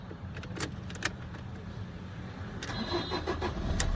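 Keys jingle, then a car engine cranks and catches, settling into a rising idle hum. The sound is close and fairly loud, with no talking.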